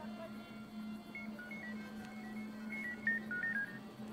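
Faint electronic beeps and short tones sound in quick sequence over a low, steady hum, like a phone being dialed and ringing.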